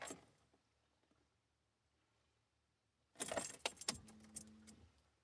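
Keys jingle briefly, then after a quiet pause rattle and turn in the ignition of a Mercedes 190E, with a short cluster of metallic clicks and a faint electrical hum as the power comes on.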